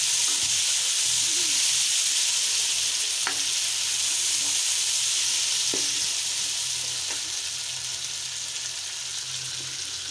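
Liver frying in a pan with onions as tomatoes go in, a steady loud sizzle throughout with a few sharp clicks and stirring knocks scattered over it, no talking.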